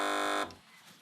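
A quiz show buzzer on a British topical news panel programme gives a loud, steady electronic tone that cuts off abruptly after under half a second, leaving quiet studio air.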